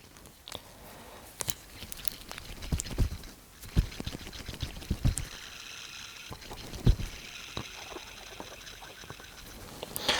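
Miyota 8215 automatic watch movement running up close, a faint, irregular rattle of small clicks and rustling ticks with no steady rhythm and no voices.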